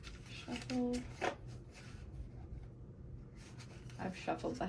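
Deck of cards being shuffled by hand, quiet close riffling and flicking in short bursts, near a soft voice.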